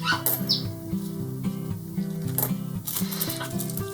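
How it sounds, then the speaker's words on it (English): A pet parrot chatters to itself in the background, with short chirps and squawks scattered over a steady, tonal indoor hum. "You can hear my parrot in the background chatting to himself as always."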